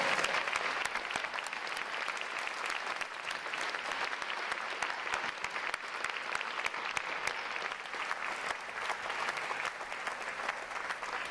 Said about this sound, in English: Let's give the staff a round of applause